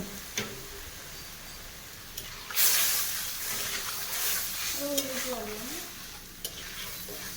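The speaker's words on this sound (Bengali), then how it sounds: "আমচুর দিয়ে মাছের টক রান্না করছে আজকে বউ" Sour fish curry with amchur cooks on a clay stove with a soft, steady sizzle and occasional stirring scrapes. A louder hissing burst rises partway through, and a brief tonal voice-like sound follows.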